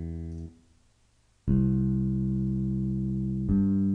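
MIDI guitar sixth string sounding in Sony Acid Pro, a short synthetic note that cuts off, a brief quiet gap, then a sustained bright tone and another re-struck note, clear and alone with no voices.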